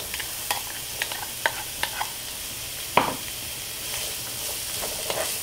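Diced onion sautéing in oil in a pan, a soft steady sizzle broken by several sharp spoon taps and clinks, one louder knock near the middle.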